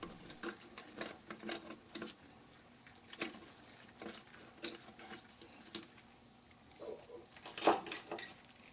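A number 2 Phillips screwdriver loosens the top screw on a fog light socket of a 1999 Acura RL, giving faint close irregular ticks and small clicks in quick bursts, with no voices.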